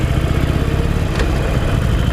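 A Harley-Davidson Iron 883 motorcycle with an 883 cc engine runs steadily, a loud, continuous low rumble with no breaks and no voices.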